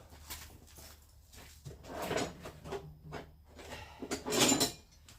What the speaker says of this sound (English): I'll just get one out of the drawer.